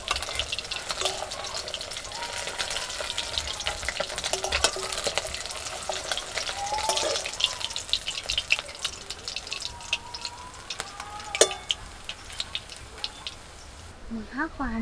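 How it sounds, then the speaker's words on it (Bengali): Rohu fish frying in hot oil for a rural Bengali meal, a steady close sizzle and crackle with occasional stirring clinks, continuous throughout with a brief louder scrape near the end. "মাছগুলো ভাজা হয়ে গেছে তুলে দিচ্ছি।"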